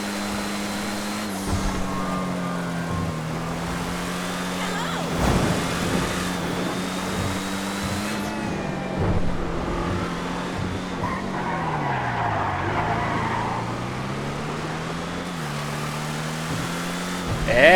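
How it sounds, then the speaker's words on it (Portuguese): Karin Hotring Everon race car in GTA 5 with a V8 engine, droning steadily and rising and falling in pitch as it revs and shifts, with tire squeal in the middle and no talking. "Ouça um V8."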